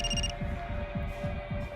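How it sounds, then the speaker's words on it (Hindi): A landline telephone rings steadily in a repeating electronic pattern over a low throbbing hum, close and fairly loud, with no voices. "नवीन, तुम्हारा फोन बज रहा है, लैंडलाइन से।"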